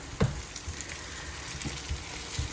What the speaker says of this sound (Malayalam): തക്കാളി ഇട്ടിട്ട് അത്യാവശ്യം നന്നായിട്ട് ഇളക്കണം